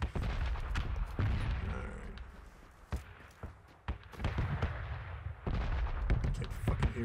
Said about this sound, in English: Bombs going off.